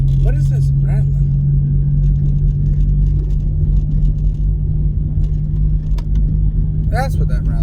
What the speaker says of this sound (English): That's what that rattling is. Oh, hear that? That's annoying. This road is just rough.